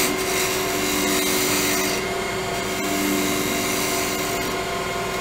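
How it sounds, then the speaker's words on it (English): Shear scrape on a wood lathe, a continuous dense scraping rasp over the steady hum of the spinning workpiece while turning a decorative spiral effect. "I'm going to actually just do a shear scrape."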